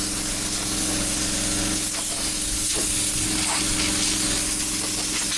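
Loud, continuous hiss of compressed air blasting into the fuel tank of a CAT D8 dozer that hasn't run in decades, a steady rushing spray that holds at constant strength throughout.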